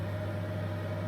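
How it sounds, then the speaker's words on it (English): Microwave oven running inside a campervan, a steady close electric hum with a constant low drone and a thin high whine, no talking. "the microwave's going"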